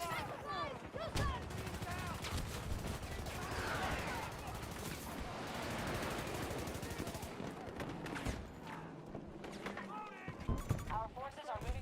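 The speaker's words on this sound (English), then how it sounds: "Taking enemy fire." Enemy gunfire in Battlefield 2042, with rapid automatic bursts and scattered shots crackling through a busy battlefield mix, while radio-style voices speak over the action.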